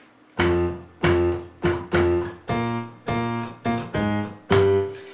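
Piano plays the left-hand accompaniment to Sing Hallelujah, a series of detached low chords and bass notes, each struck clearly and left to decay, in a steady pattern with no talking.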